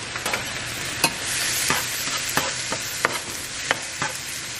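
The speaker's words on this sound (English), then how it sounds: "I went ahead and cut up the mushrooms and the onion, so I'm just gonna throw those on there. So I got that cooking." Sliced mushrooms and onion sizzle in a hot pan, a steady frying hiss broken by repeated short scrapes and taps of a utensil stirring, close and without talk.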